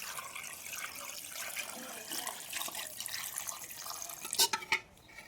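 Water pours steadily into a cooking pot with a rushing hiss, ending in a few louder splashes near the end.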